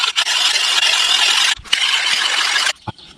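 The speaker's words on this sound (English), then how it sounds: "this shovel is super dull, so there's absolutely no edge on it, so I will sharpen it a little bit." The dull edge of a steel camper shovel is sharpened with two long, loud, rasping strokes, followed by a short knock and scrape.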